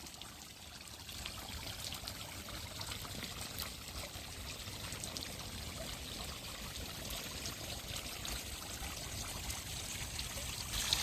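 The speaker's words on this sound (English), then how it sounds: "the water is blowing all over the place" Steady hiss and patter of water spraying from a kids' inflatable splash pad, continuous and fairly close, with a busy trickling texture and no talk.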